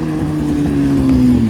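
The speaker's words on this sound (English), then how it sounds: "Got an M4 leaving." BMW M4 pulling away from a Japanese car meet in Reading, its engine droning steadily and building slightly in loudness as it accelerates off, with crowd and street noise underneath and no talk.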